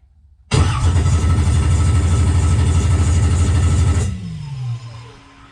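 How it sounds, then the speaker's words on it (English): A freshly rebuilt LS 6.0 V8 engine cranks over and catches, roaring loud and steady for several seconds before cutting off and winding down, with no talk. "Pop's gonna spin the motor over."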